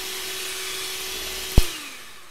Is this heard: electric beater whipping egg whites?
yes